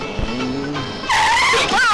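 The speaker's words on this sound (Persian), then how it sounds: "این چجور ترمز کردن دیوونه؟" A car brakes hard with a short, rising tyre screech at the end, following quieter engine and background noise.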